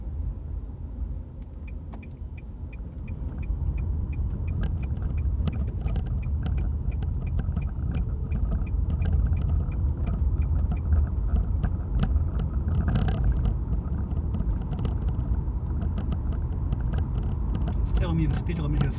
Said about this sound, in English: It's a really, really quiet little car.